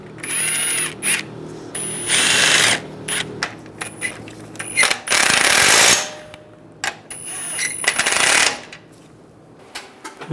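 Power tool driving and tightening bolts on a 2011-2018 Ram 1500 radiator, in repeated loud bursts of whirring and ratcheting separated by short pauses, with metallic clicks in between.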